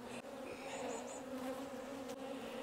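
Honey bees buzz steadily around an open beehive frame of capped brood in an urban garden, a dense continuous drone close by with no voices.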